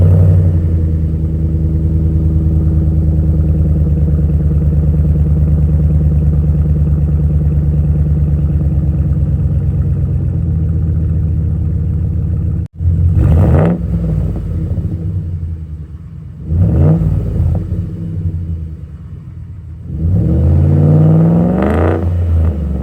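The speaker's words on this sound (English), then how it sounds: "here's the after of how the exhaust sounds with the new 3-inch custom-made catback with the Flowmaster FX muffler" Ford F150 with a 3-inch custom catback and Flowmaster FX muffler idling with a deep, steady rumble, then revving up loudly three times in short bursts.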